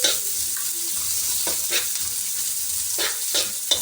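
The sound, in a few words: garlic, onion and ginger sautéing in a pan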